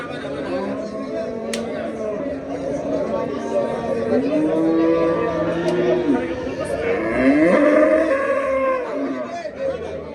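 A cow lows in drawn-out calls amid the murmur of people chatting at a busy livestock market.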